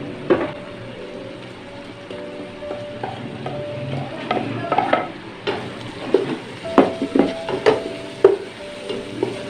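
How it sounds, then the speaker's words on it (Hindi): Biryani masala, salt and chili frying with tomatoes in a pot for chicken tikka biryani, a crackling sizzle with quick clinks and scrapes of a spoon that grow busier and louder toward the end. "मसालों की नाजरीन टमाटर के साथ भुनाई करेंगे, साथ साथ टमाटर भी पकेगा इंशाल्लाह"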